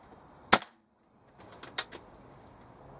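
A Weihrauch HW97 air rifle with a replaced spring fires once, a sharp close crack followed by a brief mechanical rattle, then a moment of quiet and a few faint clicks and knocks.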